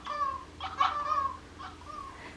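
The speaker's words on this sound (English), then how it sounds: "Makes a little squeaky noise and throws some treats" A eufy treat-tossing pet camera gives a few short, bright squeaky chirps as it launches treats for huskies, brief electronic-sounding tones repeating over about two seconds at close range.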